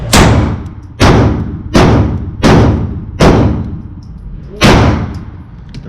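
Six loud, sharp shots from a Springfield Hellcat Pro pistol at a range, spaced roughly evenly about a second apart, each with a booming decay, close and alone.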